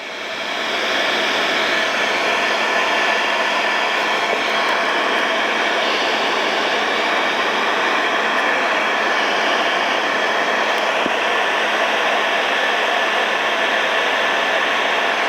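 Heat gun blowing hot air onto a decal on the air cleaner of a 1982 Jeep CJ7, a loud, steady, close-up whooshing roar that holds constant without a break and with no speech.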